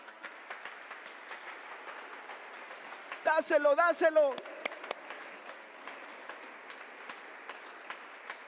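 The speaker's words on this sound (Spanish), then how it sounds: "Dale ese aplauso a papá." A congregation at a church service breaks into a brief burst of applause of about a second, rising over a quiet room while a preacher speaks before and after it.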